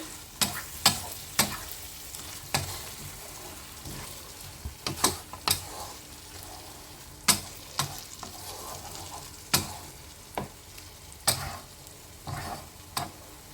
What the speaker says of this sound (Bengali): একটু নেড়ে চেড়ে নেব। যতক্ষণ না মশলাটা থেকে তেল ছাড়ছে ভালোভাবে কষিয়ে নিতে হবে।